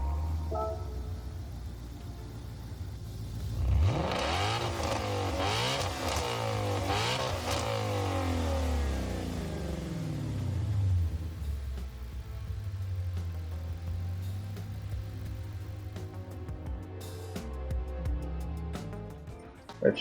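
Ford Mustang Gr4 race car in Gran Turismo 7 revs and accelerates with a rising, shifting engine note, then holds a steady loud drone for the rest of the run, no talking.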